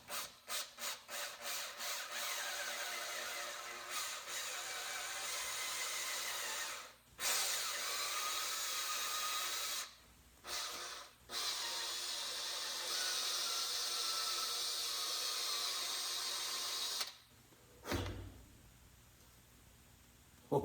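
Drill spinning an abrasive 3M pad wrapped on its bit to scour a hammer, a steady rough whirring rub broken by several short pauses, with a few quick start-stop bursts at the beginning.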